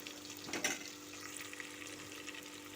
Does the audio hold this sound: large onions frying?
yes